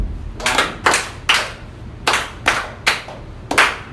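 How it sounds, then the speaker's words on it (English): A group of people clapping hands together in a steady counted pattern, eight or so sharp, loud, unified claps in short rhythmic groups with brief pauses between them and no voices. "we clap like this"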